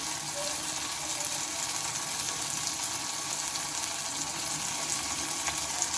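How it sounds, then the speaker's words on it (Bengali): Food fries in a pan, a steady, close, even sizzle that holds without a break from start to finish, with no talking over it. "এগুলোকে একটু লাল লাল করে ভেজে নেবো মানে অল্প একটু ভেজে নেবো বেশি ভেজে নেবো না"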